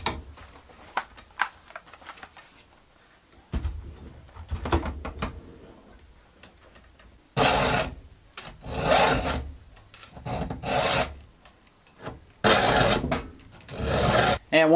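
Hand file rasping across a chainsaw chain's cutters, slow scattered scrapes at first, then longer loud stroking bursts in a steady back-and-forth rhythm, close up with no talking.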